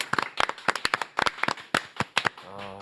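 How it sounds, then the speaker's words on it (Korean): Studio audience clapping to welcome a guest on a Korean TV talk show, heard as a quick burst of sharp, uneven claps rising and falling over nearly three seconds, with a short voiced sound at the close. "박수로 맞이합니다"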